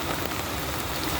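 Heavy rain falls steadily outdoors during a frame-patch welding job on a 1998 Ford Ranger 4x4, a dense continuous hiss with no voices, fairly quiet and uniform across the short stretch.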